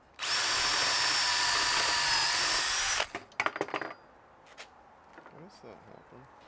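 Power drill driven through a Dowel Max doweling jig into the face of a wooden board, a loud steady whine for about three seconds, then sharp bursts of knocking and clatter as the bit is withdrawn and the jig handled.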